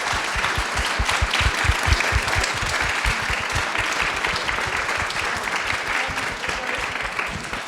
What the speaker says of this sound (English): ask for a round of applause for our outstanding panellists